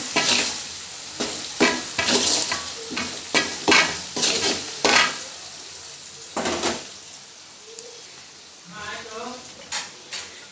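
Tomatoes fry in a pan of sizzling tempering with salt, crackling steadily while a utensil stirs and clinks against the pan in repeated close strokes, and a faint voice comes in near the end.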